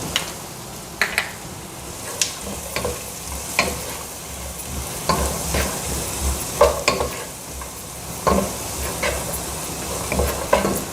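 Carrot, peas and tomato sauté in a pan with butter for veg pasta, a soft continuous sizzle broken by repeated spoon scrapes and clinks against the pan at an uneven pace.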